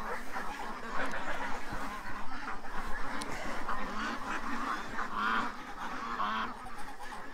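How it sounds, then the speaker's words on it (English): A small flock of domestic ducks being herded toward their pen at night keeps up a loud, overlapping chorus of honking quacks close by, with no talk. "Come on, ducks."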